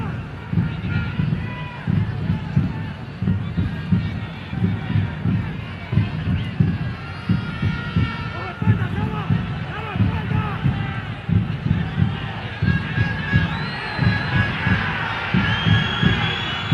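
A home football crowd in Honduras urges its team on during a World Cup qualifier against El Salvador, a loud, steady roar with rhythmic low pounding like drumming or stamping, while a voice talks over the din.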